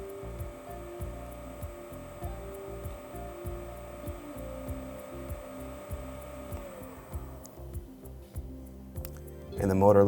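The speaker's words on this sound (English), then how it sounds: "right now it's doing a rotor detection, and the motor is going to spin then to identify that EMF" An electric motor driven by a KEB drive spins during rotor detection with a steady tonal whine that winds down near the end, over a background of regular rhythmic ticking.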